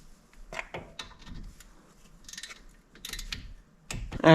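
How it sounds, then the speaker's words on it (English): A torque wrench tightens a brake caliper bolt on a 2019 Hyundai Santa Fe XL, giving a few scattered, close mechanical clicks and taps in a quiet space, with a louder clunk at the end. "So I'm going to torque it first 110 inch-pounds, and then I'm going to go to my 230 inch-pounds"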